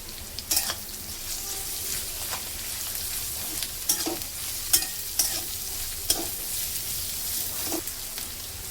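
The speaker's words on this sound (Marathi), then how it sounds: "आपण आता पत्ता गोबी टाकून घेऊया आणि गाजर।" Shredded cabbage and carrot stir-fry for veg Hakka noodles, with a steady sizzle broken by repeated sharp scrapes and clacks of a spatula tossing the vegetables in a hot pan.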